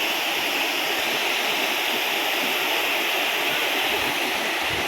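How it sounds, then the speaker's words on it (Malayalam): Vadattupara waterfall in Kothamangalam pours down in a loud, steady, broadband roar of rushing water, continuous and close, with no voices over it. "വെള്ളച്ചാട്ടം ഇങ്ങനെ ഒഴുകുകയാണ് അവിടുന്ന് താഴത്തോട്ട്"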